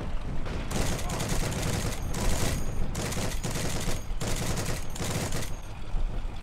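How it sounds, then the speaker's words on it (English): Machine guns rattle in repeated bursts during a tank battle in the World War II video game Heroes and Generals, loud and dense throughout with brief gaps between volleys and booming impacts. "You tend to want to fire your machine guns in bursts"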